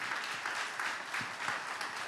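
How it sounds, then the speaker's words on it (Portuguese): A church congregation at a Sunday-morning Portuguese-language service applauds together, a steady, dense wash of clapping that holds at an even level for the whole stretch, with no voices standing out. "Você pode aplaudir ao Senhor."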